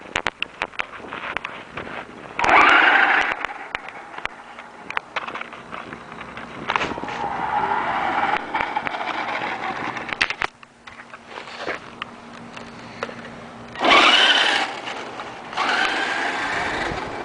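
A Radio Shack RC tracked vehicle on Mattracks, fitted with an upgraded motor and electronics, driving with a high, whirring electric-motor whine that rises and falls in bursts and pauses, close and fairly loud.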